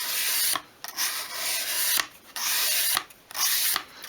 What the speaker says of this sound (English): We just want to chamfer that off a little bit.